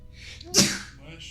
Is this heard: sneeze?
yes